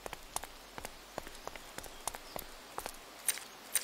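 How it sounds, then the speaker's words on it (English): Scattered droplets patter inside a cave in the horror game Graveyard Shift, irregular light taps and drips spread across a faint hiss, close and quiet with no talking. "Is it raining inside a cave?"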